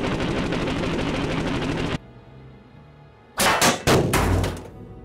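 Fighter plane machine gun firing on a B-17 bomber in an aerial interception: a dense, continuous rattling burst for about two seconds cuts off abruptly, then after a lull several short, loud bursts follow in quick succession.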